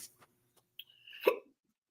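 A single quiet hiccup, a short sudden gulp with a brief squeak before it, heard close and alone in near silence during a sports talk podcast.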